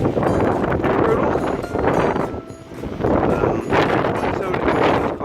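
Strong, cold winter wind buffets the microphone in heavy rumbling gusts on a snowy day at minus 26 wind chill, loud and swelling in waves with brief lulls.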